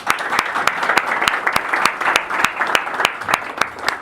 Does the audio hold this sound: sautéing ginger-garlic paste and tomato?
no